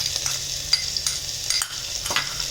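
Ginger, garlic and chilli paste sizzling in hot oil with asafoetida in a home kitchen, a steady close hiss with occasional brief scraping stirs, no talking.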